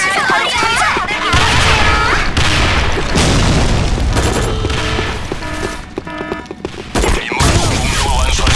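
Grenade blasts and bursts of gunfire ring out in a Sudden Attack online shooter match, loud booms and rapid shots packed together amid game effects and voices, dense and close throughout.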